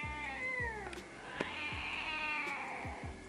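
A cat meows several times in a row with drawn-out, rising and falling cries, close and clear in a quiet indoor room.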